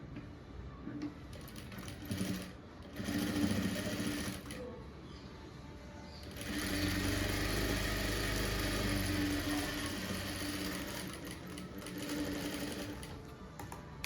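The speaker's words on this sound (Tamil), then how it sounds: "திருப்பிட்டு இது மேலே ஒரு தையல் போடணும்." A sewing machine stitches seams on a blouse in fast mechanical bursts, whirring up for a few seconds, pausing and starting again, with a voice speaking softly in between.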